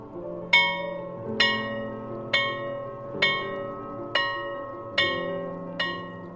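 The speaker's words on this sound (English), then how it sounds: "Does it remind you of a school bell, but the type you'd hear at a dusty institution of education from perhaps a few decades ago?" An old-fashioned school bell strikes seven times at slow, even intervals, each ring clear and resonant with a long decaying tail, heard alone over a faint low background hum.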